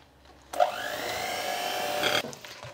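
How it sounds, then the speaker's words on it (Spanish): An electric mixer beats cookie dough for Christmas cookie baskets at low speed, a steady close whirring hum lasting under two seconds before it stops. "Vamos a batir a baja velocidad hasta que se integre, sin sobrebatir la mezcla."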